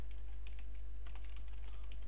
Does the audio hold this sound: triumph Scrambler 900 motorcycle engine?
no